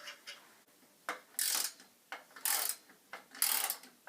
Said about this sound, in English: you have to screw the tail leg wheels on with 2 screws